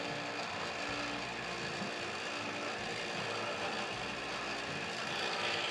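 A brewing pump moves hopped wort with a steady mechanical whir and rattle, running continuously close by, with a faint rhythmic clatter and no talking.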